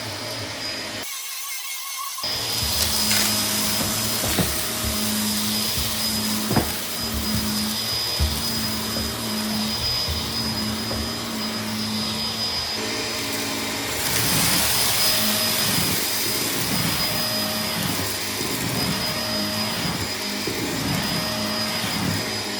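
A Kenmore Progressive DU2001 dual motor vacuum cleaner runs continuously with a loud, steady motor whine and airflow roar, its pitch shifting slightly as it moves and picks up debris.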